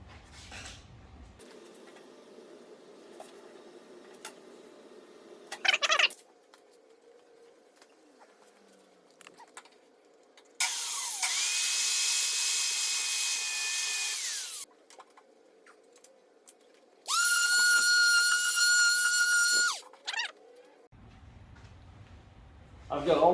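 A power saw cuts the corner off a plywood workbench top in two loud, steady bursts of a few seconds each, separated by quieter handling noise and a low background hum.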